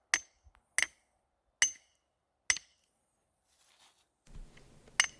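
Nail hammer striking a rock chisel to peel bark from logs meant as legs, four sharp separate metallic strikes spaced about a second apart, then quiet scraping and a rougher rustle before one more hard strike.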